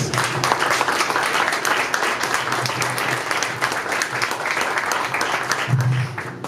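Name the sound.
audience applause for keynote speaker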